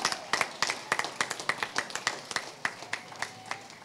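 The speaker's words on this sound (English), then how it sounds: "Give them a round of applause while they come up." A crowd claps for Wayne and Melanie Anderson as they come up at a Fiesta Days Grand Marshal awards ceremony, scattered sharp claps in an uneven rhythm, moderately close, with no talk over them.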